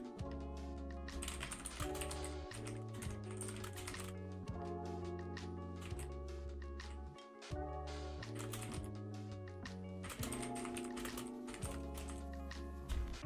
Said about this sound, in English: That's why I'm just typing for her.